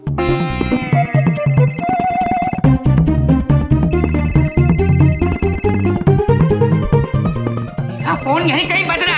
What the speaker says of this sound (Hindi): फोन यहीं कहीं बज रहा है।